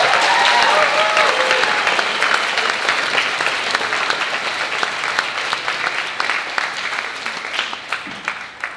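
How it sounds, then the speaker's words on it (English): Sustained applause from a graduation ceremony audience, loud and dense at first, then thinning gradually into scattered individual claps toward the end. "Let's have another round of applause for this good crowd."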